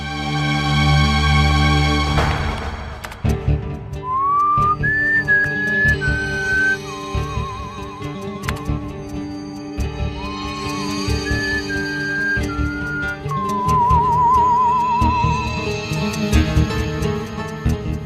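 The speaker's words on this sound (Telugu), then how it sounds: "మైక్ ముందు ఈల వెయ్యాలి." Someone whistles a short wavering tune into a microphone in two phrases with vibrato on the held notes, heard clearly over dramatic background music.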